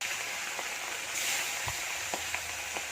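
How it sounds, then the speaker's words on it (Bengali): Katla fish heads frying in oil in a pan, a steady bright sizzle with a few soft clicks of spatula or pan contact, close up and alone. "মাছগুলোকে প্রথমে ভালো করে ভেজে নিচ্ছি।"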